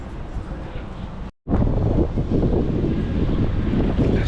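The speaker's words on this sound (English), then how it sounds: "Still windy in Southport, but the sun's out." Strong wind blusters across the microphone at the Southport seaside, a loud continuous roar that breaks off briefly and then returns at full strength.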